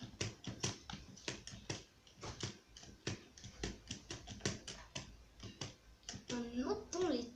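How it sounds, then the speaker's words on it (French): Computer keyboard keys clicking in quick, irregular taps during a game session, close and fairly quiet, with a voice talking over them and a brief tonal sound near the end. "On entend les touches de mon clavier"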